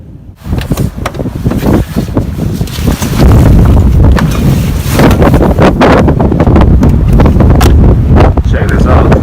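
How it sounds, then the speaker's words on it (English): Strong winter wind batters a tent camp in a windstorm, a loud, constant roaring buffet with gusts that swell and thump across the microphone and keep building throughout. "I wouldn't say snowstorm, but windstorm for sure."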